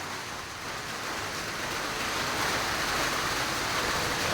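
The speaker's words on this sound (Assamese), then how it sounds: "বাপাৰে কি জোৰে বৰষুণ আহিব।" Heavy rain pelting down on surfaces at a Nalbari match venue, a dense continuous roar that swells slightly louder halfway through and stays steady, with no voices.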